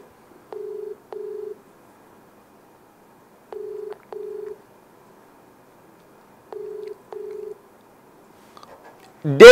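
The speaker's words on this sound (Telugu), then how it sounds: "డేవిడ్ నెంబర్ రింగ్ అవుతోంది" A phone ringback tone repeats three times in paired beeps with long silent gaps, clear and steady, while a call is placed to David; a sharp burst cuts in at the very end.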